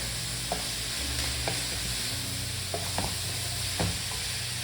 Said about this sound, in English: once we've got our herbs and spices in there, we're going to let that cook